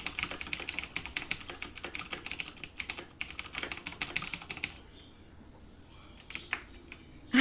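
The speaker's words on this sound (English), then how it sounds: "Can you see me typing?" Fast bursts of computer keyboard typing clatter up close during an online game session, with a short pause near the end before a few more keystrokes, and no talking over it.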